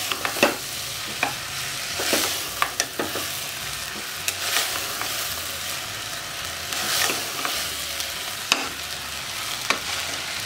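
Rice frying for chana pulao sizzles steadily in a pan while a spoon stirs it, scraping and tapping against the metal at frequent irregular intervals, close and fairly loud.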